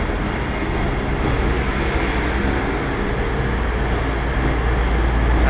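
A Great Western Railway class 158 diesel unit idles at Plymouth station, a steady broadband engine rumble with low throb holding evenly throughout, no voices over it.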